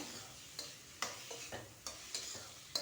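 Tomatoes and tamarind being sautéed in a pan, with a stirring spoon scraping in repeated strokes roughly every half second over a soft, steady sizzle; close and moderately quiet, with no talking.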